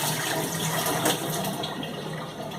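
Hot water from boiled potatoes pouring out through a strainer into a sink, a steady splashing gush lasting a couple of seconds with no talking.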